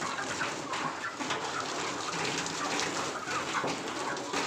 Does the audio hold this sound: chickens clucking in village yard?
yes